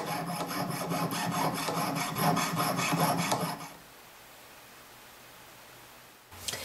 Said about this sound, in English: To cut the wires by hand, you may find it useful to use your bench pin as a stabilizer